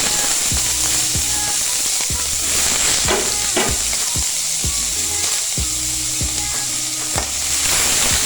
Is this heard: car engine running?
no